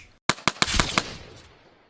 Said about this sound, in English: I can turn this into a very powerful gun and just go like this